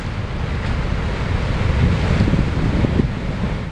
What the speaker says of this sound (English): This is a glacial lake outburst flood.